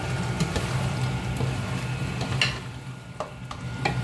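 Salted fish frying in hot oil in a home kitchen, a steady, loud, close sizzle with faint crackles throughout and no speech.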